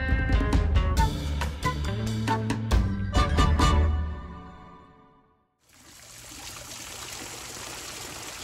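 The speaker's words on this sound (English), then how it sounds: "And he shoots water right into the lagoon, as you can see." A water stream pours from an elephant fountain into a backyard lagoon in an Adventureland-themed garden, a steady close splash and hiss that follows a few seconds of loud rhythmic music, which fades out first.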